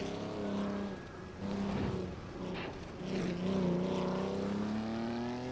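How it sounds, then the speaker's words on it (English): A 1950s-60s Formula 1 car races in the Assetto Corsa video game, its old engine droning and revving in rising and falling waves as gears shift, loud and close throughout with no talking. "We're just chilling here with this old Formula 1 car."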